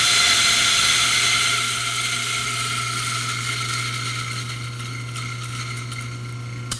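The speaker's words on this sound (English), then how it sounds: "you put it in your grinder, and you run it through." An espresso coffee grinder runs with cleaning product fed through it, giving a steady, loud mechanical whir and grinding rattle that holds throughout with no talking.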